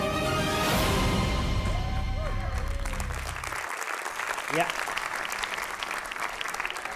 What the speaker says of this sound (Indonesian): Bagus, tepuk tangan aja untuk aliran sesat.